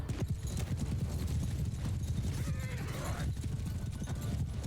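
Cavalry horses galloping in the video game Mount & Blade II: Bannerlord, a steady drumming of many hoofbeats with an occasional whinny, moderately close and continuous throughout.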